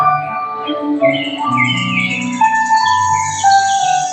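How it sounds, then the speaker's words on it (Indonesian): Several birds chirp and warble together, with bright overlapping calls and tweets forming a steady, lively chorus. "suara burung yang berkicauan."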